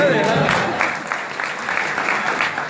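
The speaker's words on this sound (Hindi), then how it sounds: "डॉक्टर साहब के लिए भी तालियां भाई" Audience applause for a doctor at a comedy poetry event in a medical college hall, a steady wash of many hands clapping with faint crowd noise, continuous and fairly loud throughout.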